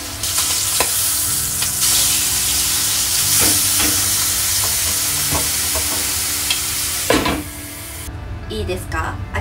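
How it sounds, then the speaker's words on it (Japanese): Skin side of a piece frying in olive oil in a pan, a loud steady sizzle and hiss running throughout with occasional clinks and scrapes, and a brief louder burst near the end. "これはオリーブオイルで焼いていきます。"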